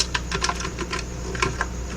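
Typing a command on a computer keyboard in a Linux terminal: quick, close, crisp key clicks in short irregular bursts, about a dozen strokes over a faint steady hum, with no talking.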